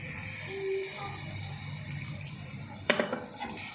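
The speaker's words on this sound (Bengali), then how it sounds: "এখন আমি একটু পানি দিয়ে দিব" Water poured into a cooking pot of spiced hilsa curry, a soft continuous liquid wash followed by a few sharp clanks of utensil against the pot near the end, close and quiet.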